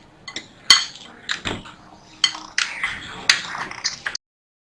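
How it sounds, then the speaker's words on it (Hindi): Besan and maida flour mixed in a bowl for besan nan khatai cookies, heard as light scraping with repeated sharp clinks and taps of a utensil against the bowl, close and moderately loud, with no talking. "तब हम इन्हें पहले अच्छी तरह इस तरह मिक्स कर लेंगे"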